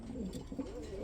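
Lahori pigeons at a pigeon market giving a short, soft cooing call, low and throaty, a brief murmuring burst close by.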